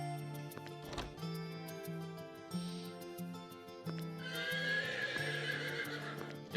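Wild Arms 3 game audio with horses whinnying and hooves clip-clopping over a looping musical background, with a brighter burst of sound near the end.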